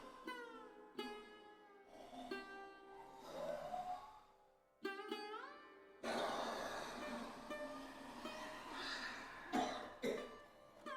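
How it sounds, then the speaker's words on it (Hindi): Several loud coughs and throat-clearing bursts come from a person during a yoga breathing exercise in the Shashank asana, with gasping breaths and brief pauses between fits. "करते रहिए, आने दो खांसी को, कोई बात नहीं है"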